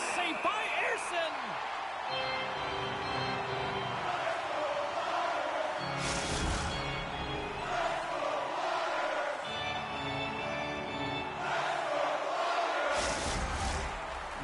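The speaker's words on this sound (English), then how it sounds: "You can feel the energy in this crowd" An arena crowd at an NHL 25 hockey game between the Philadelphia Flyers and Ottawa Senators makes a steady, murmuring roar that rises slightly at moments, running beneath continuous play-by-play commentary.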